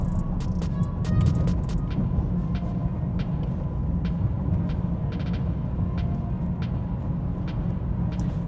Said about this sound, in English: Let's see what are the noise levels.